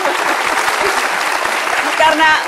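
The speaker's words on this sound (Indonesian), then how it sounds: "kita kasih tepuk tangan dong untuk keduanya" A studio audience at a televised political discussion about the Jokowi–Prabowo contest claps steadily, with voices talking over the applause and a brief louder burst near the end.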